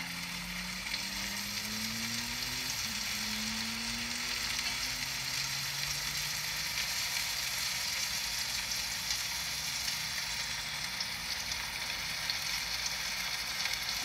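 Pieces of fish frying in a pan for a Telugu-style fish stew with tamarind, giving a steady, moderate hiss and crackle that runs unbroken and without speech.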